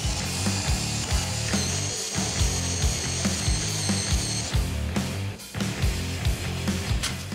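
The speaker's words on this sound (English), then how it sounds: "To prep the areas that have surface rust, we'll use a bristle disc to clean it up" A bristle disc on a power tool scrubs surface rust from a Mazda Miata body panel being prepped for paint, giving a steady, loud whirring grind with rhythmic pulsing and no talk.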